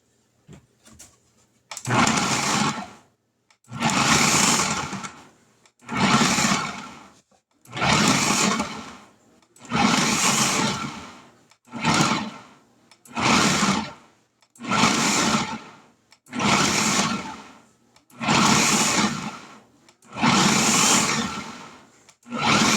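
An electric hand mixer churns pie crust dough with chunks of butter in a kitchen, running in about eleven loud, even bursts of roughly a second and a half each, separated by short pauses.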